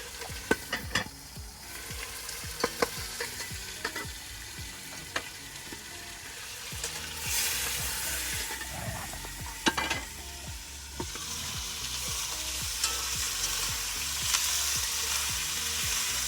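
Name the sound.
garlic and tomatoes frying in a pan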